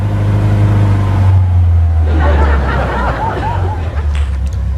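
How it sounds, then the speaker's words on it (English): A Lada Kopeyka engine warms up on choke, a loud, steady low idle that shifts slightly in pitch, with people talking over it in the second half. "now that the car is started, we're letting it warm up"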